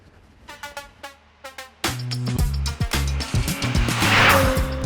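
An Infiniti G35 with a naturally aspirated engine, rear-wheel drive and a manual transmission starts with a few short revs and door or switch clicks. It then pulls away with a loud, rising engine note and shifts through gears, close to the listener.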